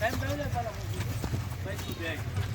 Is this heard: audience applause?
no